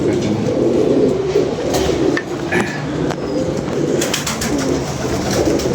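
Pigeons coo in low, repeated rolling calls close by, with some rustling and a few faint higher chirps layered over a steady background hum.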